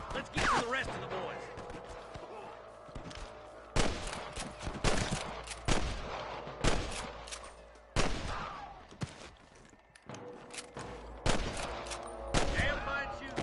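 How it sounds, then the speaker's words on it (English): Bursts of gunfire crack in Red Dead Redemption, rapid rifle and pistol shots in clustered volleys with distant pops in between, while voices shout underneath. "Damn fine shooting, boys."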